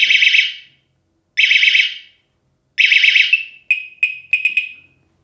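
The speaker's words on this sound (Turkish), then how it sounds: "ciyak ciyak bağıran, ortalığı velveleye veren bir alarm sesine 120 desibellik bir sese sahip" Loud, piercing 120-decibel M-Wave bicycle alarm wails in three bursts of rapid warbling, the last breaking into short chirps, close by with silence between.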